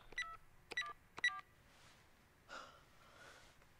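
A telephone number being dialed in the video game Beyond Two Souls: a few quick clusters of crisp electronic keypad tones, quiet and close, followed by faint breathy rustles.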